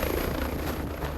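A rescue helicopter flies out to an island after a boat propeller accident at sea, its steady engine and rotor roar filling the whole short stretch with no talk.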